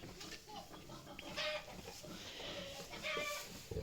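Laying hens clucking and cackling close by near their nest, a busy chorus of short calls over farmyard murmur, with no talking.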